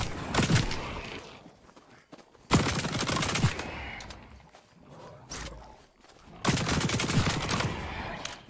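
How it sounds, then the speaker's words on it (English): A Voltaic Brute gun fires in the video game The Cycle: Frontier, giving several loud, roaring bursts of a few seconds each, separated by quieter pauses. "Voltaic Brute, very good gun,"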